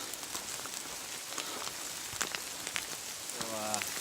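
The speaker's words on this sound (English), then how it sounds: "Rain is coming down." Rain patters steadily on a hiking trail along the Ouachita Trail, a soft continuous hiss of drops with a few sharper taps, fairly quiet and close, a faint voice-like tone near the end.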